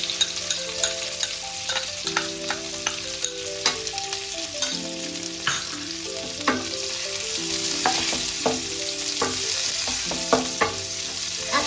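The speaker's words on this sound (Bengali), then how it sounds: "2 মিনিট মতন পেঁয়াজটাকে হালকা ফ্রাই করে নেব" Chopped onions fry gently in a pan over a low gas flame, a steady close sizzle broken by regular clinks and scrapes of a spoon stirring, with no talking.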